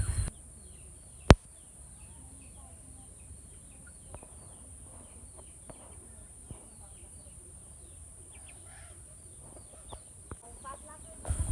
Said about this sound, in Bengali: আর এগুলো আমাদের বাড়ির দেশি মুরগি